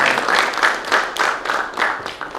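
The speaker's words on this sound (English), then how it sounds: "Can we have a round of applause for him" An audience at an event applauds a guest, the loud, dense clapping from many hands swelling and dipping in short waves throughout.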